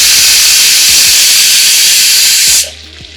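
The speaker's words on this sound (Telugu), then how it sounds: "ఇలా 2 వైపులా తిప్పుకుంటూ కలర్ కొంచెం డార్క్గా అయ్యే వరకు ఫ్రై చేసుకుందాం." Fish fries in hot oil in a pan, making a loud, steady, close sizzling hiss that cuts off abruptly near the end, leaving quiet.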